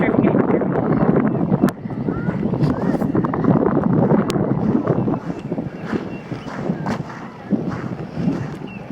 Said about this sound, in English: It's kind of windy, so I'm not sure if you can hear me